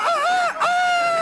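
A short, loud, wavering call like a hen or rooster in a henhouse rings out close by, a tonal two-part cry with a brief break in the middle.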